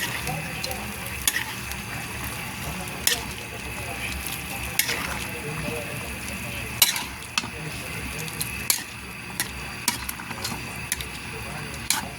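Food sizzles steadily in a hot frying pan as bouillon cubes are stirred in, with a spoon scraping and clinking against the metal at irregular intervals, close and continuous.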